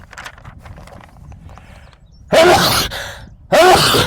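Two loud, sharp sneezes burst out one after another, close to the microphone, following a stretch of quiet background noise.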